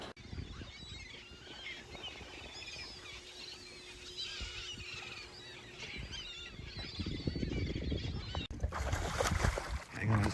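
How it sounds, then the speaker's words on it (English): A flock of seagulls squawks over Lake Texoma in fall, many overlapping calls at a moderate distance over wind and water noise, with a louder rumble of boat or handling sounds near the end. "These birds squawk, bite each other."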